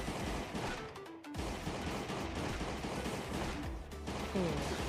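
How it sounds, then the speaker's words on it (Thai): A gun in Last Day on Earth goes off on its own, with sharp shots scattered through a steady, loud bed of game noise. "ทำไมปืนผมมันลั่นเองวะ"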